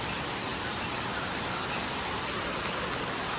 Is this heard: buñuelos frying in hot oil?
no